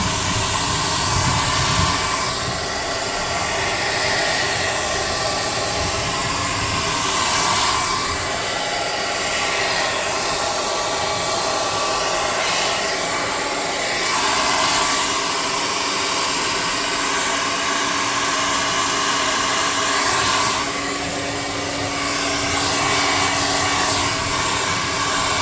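A hair dryer blows continuously at close range as paint dries on tabletop palisade terrain, a loud steady whirring roar with slight swells as it is moved about, and no talk.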